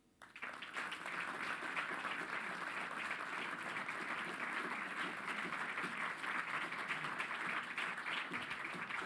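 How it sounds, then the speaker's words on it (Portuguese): An audience claps for Dr. Emanuel Queiroz at a basic life support certificate ceremony, a sudden burst of applause that stays full and steady for the whole stretch, with no talk. "a quem pedia uma salva de palmas"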